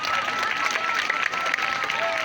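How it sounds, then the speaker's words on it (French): Pupils and parents at a school welcoming ceremony for new sixth-form and second-form students break into dense, sustained applause. The clapping of the crowd fills the space, with faint voices mixed in. "applaudissez donc pour la présidente et son équipe"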